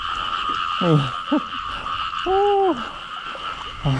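Several frogs croak in a rainy night field while frogs are hunted by hand, giving short separate calls and one longer drawn-out croak, close by over a steady background of insect and rain hiss.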